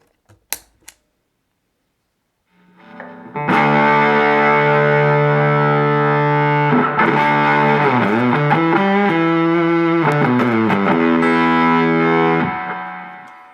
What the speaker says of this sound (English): this pedal gets really noisy really quick